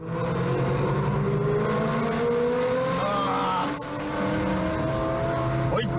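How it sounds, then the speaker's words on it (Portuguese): A Ford Mustang accelerates hard on a street, caught from a car following close behind, its engine note rising and surging over steady road noise, with voices faintly audible inside the filming car. "Os ocupantes de um carro logo atrás do Mustang filmam o motorista da frente acelerando."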